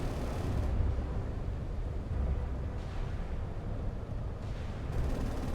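Explosions and secondary blasts aboard ships in the naval game Sea Power come as a steady, heavy low rumble with a few swelling surges, dense and continuous with no voices.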